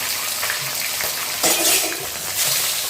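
Two more pieces of katla fish slide into hot oil for a kalia, setting off a loud, steady sizzle with a sharper burst of spitting midway, close by and with no talking.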